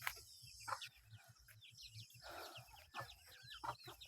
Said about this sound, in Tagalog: Akong mga alaga, mga manok diri